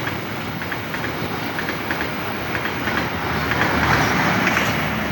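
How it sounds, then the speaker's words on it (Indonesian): A CC 203 diesel locomotive hauling the Balambangan Express rolls past close by, with a steady loud rumble, rhythmic wheel clatter and metallic rattling that swells slightly toward the end. "Lokomotif CC 203 kereta api Balambangan Express."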